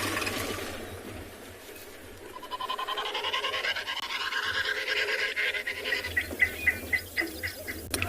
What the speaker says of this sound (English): So that's the sound made by an African snipe.